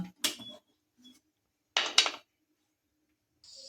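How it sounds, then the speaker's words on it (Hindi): Metal clanks as a pressure cooker lid is set and twisted locked while cooking a raw banana curry, two distinct clattering bursts with a faint tap between, close and otherwise quiet. "तो अब हम कुकर को लॉक कर रहे हैं।"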